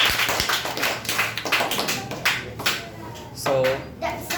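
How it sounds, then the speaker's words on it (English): Children clap for a speaker at a public speaking competition, a dense, close patter of many small hands with a brief voice mixed in. "Well done, clap for this."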